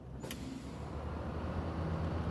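An International Transtar truck drives steadily in the SnowRunner game, its low engine rumble and road noise continuous and fairly loud throughout, with a brief higher click near the start.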